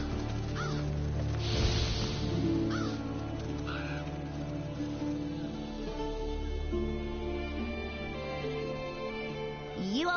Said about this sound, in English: Seems the black birds are the culprits.